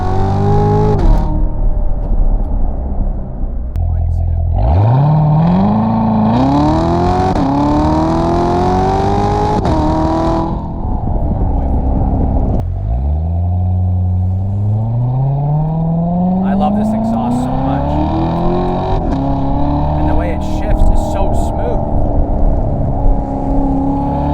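A 2018 Corvette C7 Z06 engine revs hard and climbs through the gears, pitch sweeping upward twice, loud and close, with a voice speaking briefly.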